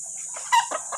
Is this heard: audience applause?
no